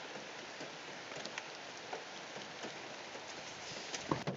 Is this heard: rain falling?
yes